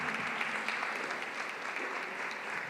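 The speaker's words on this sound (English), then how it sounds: "Can you give that a hand clap?" An audience at a school business event fills the room with continuous hand clapping, a dense, even patter of many hands at moderate distance that holds steady for a few seconds without talk.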